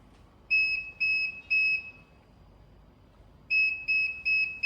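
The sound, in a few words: electronic tailgate beeps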